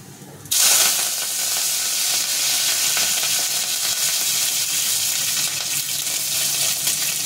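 Mustard seeds, cumin and curry leaves hit hot oil with a sudden loud sizzle that keeps crackling and hissing steadily to the end, with no talking.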